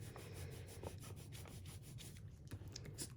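A foam sponge dauber is pressed and twisted against an ink pad, giving soft, steady rubbing and scuffing close by with no talk.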